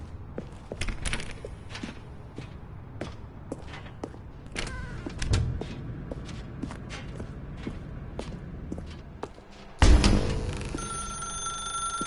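An old telephone rings in The Stanley Parable after a stretch of shuffling footsteps and thumps through a dark room, the ring bursting in loud and near toward the end.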